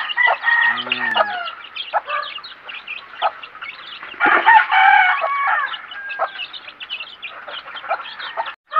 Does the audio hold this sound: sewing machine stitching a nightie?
no